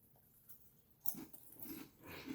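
Crispy fried jalapeños crunched and chewed with a full mouth: a few close, moist crunching bites begin about a second in, then steady chewing continues near the ear with no talking.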